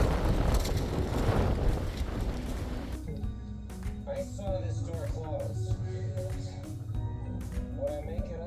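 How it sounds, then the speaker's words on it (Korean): Wind gusts at Gwakji Beach on Jeju roar loudly into the microphone for about three seconds, then fall to a faint breeze under a soft musical background. "지금 바람이 날 자꾸 밀어주네"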